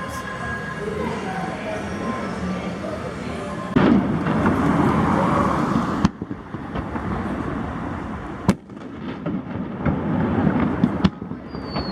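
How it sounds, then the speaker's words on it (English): Random fireworks shot off in Niigata City, Japan during Golden Week pop and crackle at a distance, with sharp cracks standing out over a steady rumble, while people chat over them. "It's like random fireworks. And they're shooting it off from those,"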